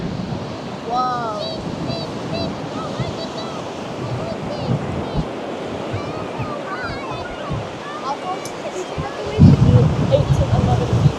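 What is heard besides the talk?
ocean waves breaking on the shore in a storm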